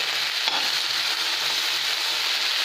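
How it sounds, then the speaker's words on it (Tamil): Okra sautéing in a pan gives a loud, continuous, hissing sizzle that holds steady throughout, with one faint stir knock early on and no talking. "இப்போ இதை ஒரு ரெண்டு நிமிஷம் வதக்குவோம்"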